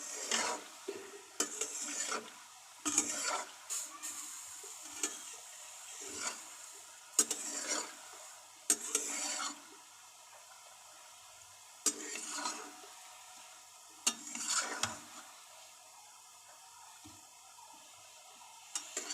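Hot oil bubbling in a pan for gulab jamun, pulled off the heat after getting too hot; a soft, steady low sizzle with irregular bursts of fizzing, no talk.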